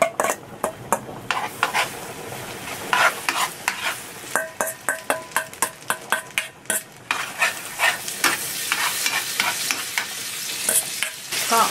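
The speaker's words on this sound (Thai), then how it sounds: "ใส่บัตเตอร์ลงไปนะคะ พอพาสต้าเริ่มละลายนะคะก็ใส่นัตโตะที่เตรียมไว้นะคะลงไปค่ะ" Natto cooks in melted butter in a frying pan, a soft sizzle under a rapid run of rhythmic scraping and tapping strokes from a utensil against the pan, close and busy throughout.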